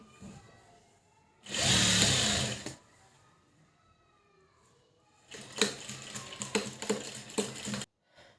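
A sewing machine runs in two bursts while stitching a blouse lining: a short steady whir, a pause, then a longer stretch of fast rattling stitching close by.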